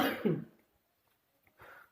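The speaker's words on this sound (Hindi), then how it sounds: "बार बार मुझे कफ हो रहा है, मतलब खांसी उठ रही है" A person coughs twice in quick bursts, followed by a short pause and then another rough, throaty cough, close to the microphone.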